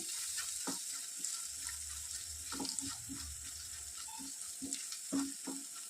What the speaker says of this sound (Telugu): ఇందులో 1/2 టీ స్పూన్ పసుపు, 1/2 tea spoon garam masala add చేసుకొని ఒక 10 సెకండ్స్ వరకు ఫ్రై చేసుకోవాలి